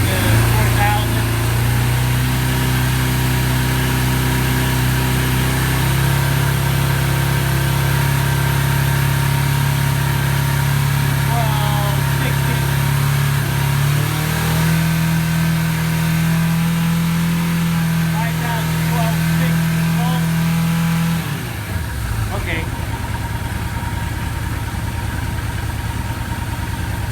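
A 1981 Suzuki GS850 motorcycle with electrical problems idles, then is revved up to about 4,000 rpm and held, the engine note rising and staying steady before dropping back near the end, with someone talking over it.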